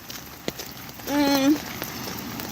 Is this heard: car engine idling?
no